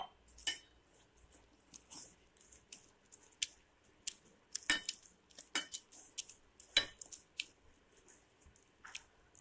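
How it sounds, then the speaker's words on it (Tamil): Faint, wet squishing and squelching as potato bonda batter is mixed by hand with water, with occasional soft clicks against a bowl. "தண்ணி தேவையான அளவு தண்ணி ஊற்றி நல்லா கலந்துக்கலாம்."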